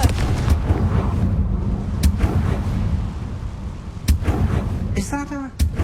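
Booming blasts and cracks from the Confringo blasting curse in the Hogwarts Legacy video game, several sharp impacts over rumbling game ambience, with a voice briefly heard near the end.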